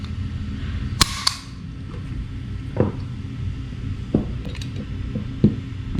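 A Springfield Prodigy pistol fitted with a Miller Precision billet grip module is dry fired while empty, giving a few sharp metallic clicks spaced a second or so apart over a quiet background.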